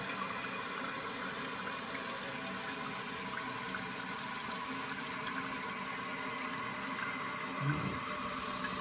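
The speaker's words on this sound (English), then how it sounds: "I'm gonna flush it." A toilet tank refills after a flush, a steady, even rush of running water that holds close and moderate throughout, with a faint low thump near the end.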